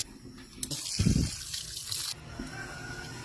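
Water gushes from a tap in a rural provincial home for about a second and a half, with a low thump near the start and quieter background noise before and after.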